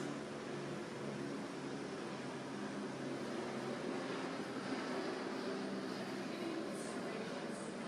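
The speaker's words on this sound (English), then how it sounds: "We need to let the helicopter get by." Steady broadband aircraft-like roar holds throughout, a helicopter passing overhead at moderate distance with no distinct rotor chop standing out.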